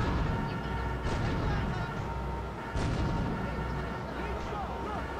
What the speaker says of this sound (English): So we got unlimited grenades